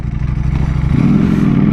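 Ducati Panigale V4R superbike fitted with an Akrapovic exhaust, ridden through city traffic on Sunset Boulevard: a loud, steady engine drone that deepens and swells about halfway through as the throttle opens.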